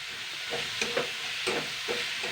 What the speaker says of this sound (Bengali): এবারে আমি এগুলোকে ভালো করে নাড়াচাড়া করে নেব চিনি নারকোল করা